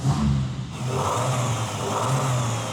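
A GMC Typhoon's engine running steadily at close range, a smooth mid-pitched drone with a slight rise as it revs, no voices over it.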